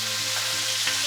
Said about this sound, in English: you're just going to want to let the pineapple cook for a little bit.